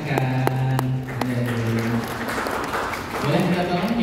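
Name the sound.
audience applause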